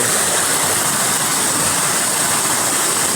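A flowing stream or canal rushes loudly and continuously, a dense steady wash of water noise close by with no pauses.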